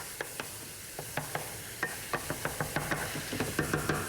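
Garlic sizzles in a skillet of browning sausage for a red bell pepper pasta dish, a soft frying crackle punctuated by a quick series of close scraping stirs, fairly quiet and with no talking.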